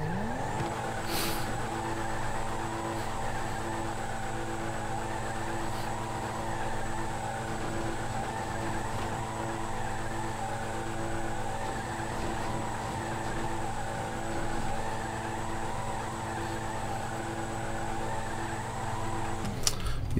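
Video game car from a GTA roleplay session, engine droning steadily throughout with tyres squealing and skidding, continuous and fairly loud with no talk over it.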